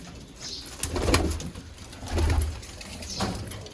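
Pigeons coo close by in soft, low, repeated throaty phrases, a few seconds apart.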